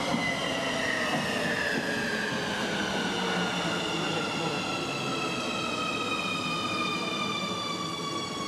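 Driverless U-Bahn train pulling into a Nuremberg station, a loud sustained rush of wheels and motor with rising and falling whine tones throughout, steady and close, with faint voices in the background.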